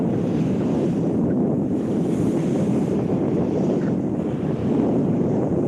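Beach at Pensacola, Florida, with surf washing in and wind buffeting the microphone, a steady loud roar of rolling waves and gusts throughout, no talking.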